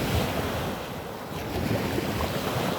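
Ocean waves wash steadily onto the beach at Lover's Key, Florida. The surf hisses and rumbles continuously, with gusty wind buffeting the microphone.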